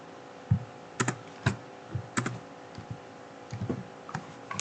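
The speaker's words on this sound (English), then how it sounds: "So just type east on your keyboard." Keys on a computer keyboard are tapped in a sparse, irregular series of close, crisp clicks, with short pauses between bursts and no talking.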